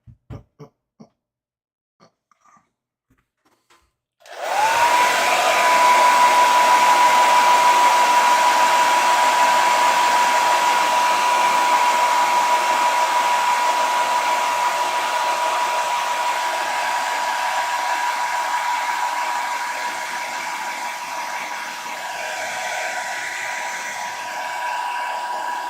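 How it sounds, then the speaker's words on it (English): Hair dryer blowing on freshly painted model parts, switched on after a few soft taps and then running loud and steady on a constant whine for more than twenty seconds, with no talking. "this I can use the hairdryer"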